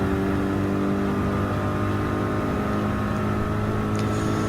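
A Chevy Corvette C7 Group 3 racing engine in Gran Turismo 7 at Daytona Road Course, a loud steady high-revving drone held at constant pitch throughout, with no voices.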